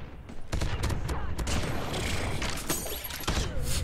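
Rapid gunfire bursts from the COD Mobile video game, loud and dense with sharp repeated shots and thuds throughout, with brief gaps between bursts.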